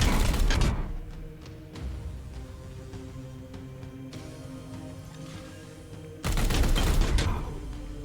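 Gunfire erupts in a video game: a loud, dense burst of shots at the start, a quieter stretch with scattered mechanical clicks and a low hum, then a second loud volley near the end.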